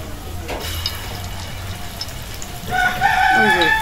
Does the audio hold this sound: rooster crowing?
yes